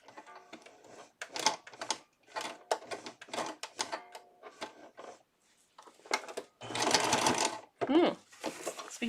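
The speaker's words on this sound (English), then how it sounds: "right now I'm just sewing the elastic casing channels for the cover." A sewing machine stitching elastic casing channels on a cloth diaper cover runs in repeated short bursts separated by pauses, with one longer stretch of stitching near the end and a faint voice in places.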